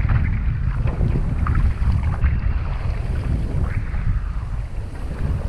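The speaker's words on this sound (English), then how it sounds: "But you can definitely tell there's some gusts." Steady wind buffets the microphone aboard a small sailing boat crossing a bay during the Everglades Challenge, a continuous low rushing roar with slight swells as gusts come and go.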